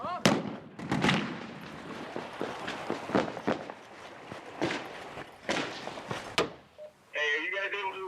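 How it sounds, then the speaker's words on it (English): Heavy guns firing in a war zone in Afghanistan, heard as a series of sharp, loud blasts with irregular spacing, some close and some more distant, with speech and shouting between and over the shots. "Heavy guns are shooting on the peninsula to the north, on the east side of the canal."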